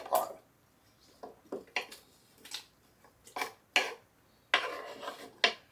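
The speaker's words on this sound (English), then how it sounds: "we're just going to dump that into the crock pot" Chopped onion and pepper tipped into a crock pot for slow-cooker beef teriyaki, heard as irregular clatters, taps and soft scraping thuds of pieces and utensil against the pot, close and unaccompanied by talk.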